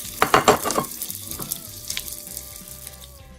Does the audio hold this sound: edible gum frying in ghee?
yes